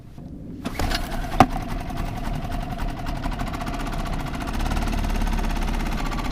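Repaired boat outboard motor started up and running smoothly, a steady close engine drone with a fast even buzz that holds without faltering after a sharp click at the start.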